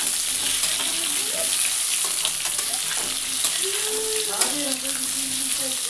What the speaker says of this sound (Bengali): আলুগুলোকে ভালো করে ভেজে নিই